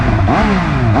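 A Triumph Speed Triple 1200 RR three-cylinder motorcycle engine revs loud and close, with one brief rising and falling swell of the throttle.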